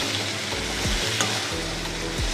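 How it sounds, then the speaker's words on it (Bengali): Onion, capsicum, bell pepper and garlic frying in a pan, a loud close sizzle running steadily throughout, with a low background hum and no voices. "এই পেঁয়াজ ক্যাপসিকাম, বেল পেপারগুলো আর রসুনটা একটু ভালো করে ভেজে নিচ্ছি"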